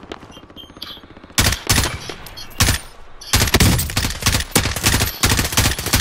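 Rapid automatic gunfire from Call of Duty: Warzone, loud bursts of machine-gun shots in several long volleys with short gaps, following a quieter stretch of faint background game noise.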